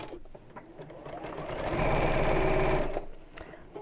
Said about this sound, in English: And we'll sew this together, leaving again quite a large turning gap.